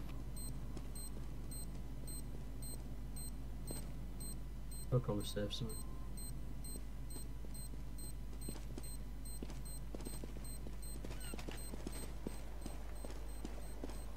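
A planted bomb in Counter-Strike: Global Offensive beeps in a steady, regular tick across the whole stretch, faint and high, while a player talks over it and scattered footsteps and clicks sound nearby.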